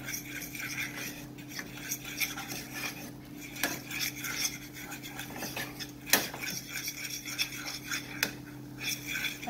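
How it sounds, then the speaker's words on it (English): A whisk scrapes and clicks against a slow cooker pot as flour is stirred into melted butter a little at a time, producing continuous rubbing and rattling strokes close up, with no speech. "now we're going to add in the flour. I like to just add a little bit at a time and mix."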